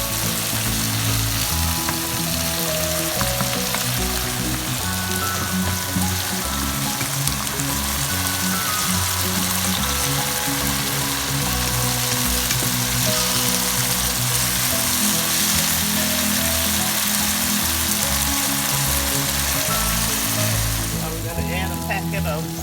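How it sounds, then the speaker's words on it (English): Codfish and rice simmer and sizzle in a pot, a loud continuous bubbling crackle that runs steadily throughout without a break. "It's now about halfway through simmering."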